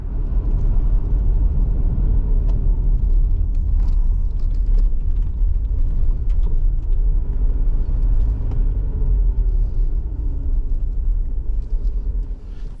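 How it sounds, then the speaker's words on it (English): A car drives along a rural road through mist and rain, its steady low engine rumble and tyre noise continuous and fairly loud throughout, easing slightly at the end as it pulls up. "I think you just saw me pulling up as I was driving along and saw these 3 trees."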